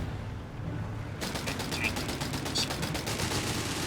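Rapid machine gun fire from a Vickers in a Company of Heroes 3 battle starts abruptly after a quiet moment, a steady stream of close, evenly spaced bursts over low battle rumble.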